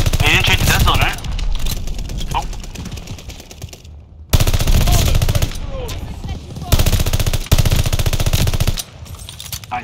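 Rapid automatic gunfire from the video game Call of Duty, loud and close in repeated bursts separated by short pauses, with speech over it.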